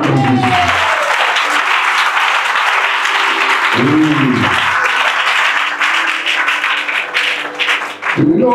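An audience applauding at a religious gathering, a long dense burst of clapping close and loud, with a voice breaking through briefly before the applause carries on and then fades.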